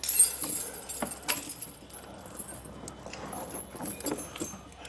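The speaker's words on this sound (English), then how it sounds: "So we're gonna pick up our chain and drape it over our tire." Titan snow tire chain with cams lifted and draped over the tire of a 2023 Hyundai, giving loud metallic jangling and clinking up close, with several sharp link rattles.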